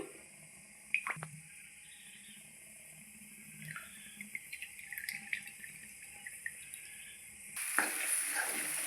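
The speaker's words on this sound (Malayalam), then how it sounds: "എണ്ണ ചൂടാക്കി നമ്മൾ ഇഞ്ചി ചതച്ച് വെച്ചത് അതിലേക്ക് ഇട്ട് വഴറ്റി കൊടുക്കുക" Crushed ginger frying in hot sesame oil (gingelly oil) in a Kerala home kitchen, giving a soft, steady sizzle with scattered clicks and stirring scrapes. The sizzle swells louder near the end, and no one speaks.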